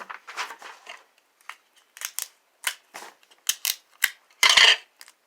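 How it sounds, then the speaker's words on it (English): Tape pulled and torn while fixing a paper background into the back of a bookcraft diorama box: a series of short, crisp ripping and crackling bursts with brief pauses, close and fairly loud, with no talking. "Now I'm just taping this in quick."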